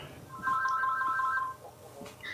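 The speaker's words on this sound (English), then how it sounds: "I thought that was my phone for a second." A phone ringtone sounds as a single electronic warbling burst of about a second, moderately loud against a quiet room during a podcast recording, alone with no talk.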